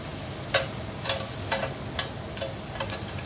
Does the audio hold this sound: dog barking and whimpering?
no